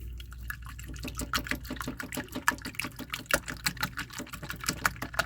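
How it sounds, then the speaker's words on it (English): Eggs whisked by hand in a bowl inside a vintage caravan, producing a quick, steady run of light clicking strokes at close range with no talking. "Just eggs are good. And I'll whisk it up."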